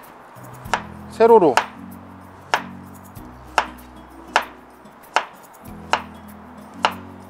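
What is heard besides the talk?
knife slicing vegetables on cutting board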